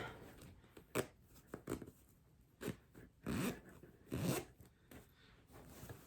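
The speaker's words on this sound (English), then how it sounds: "And I'm going to zip her up." Zipper being pulled closed on a pillow sham made from an old t-shirt, a series of short, quiet rasping zips with pauses between them, close up in a quiet room.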